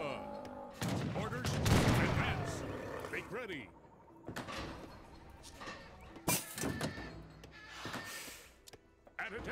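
A musket volley animation from Age of Empires 3, with a burst of crackling gunfire and mechanical clatter followed by scattered sharp battle sounds. Someone talks over the game audio.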